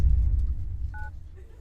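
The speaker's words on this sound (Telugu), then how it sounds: "ఎన్నిసార్లు ఫోన్ చేసినా ఫోన్ కలవడం లేదు." A telephone being dialed in a film comedy scene, with a short pair of keypad tones heard faintly over a low rumbling background, the call not connecting.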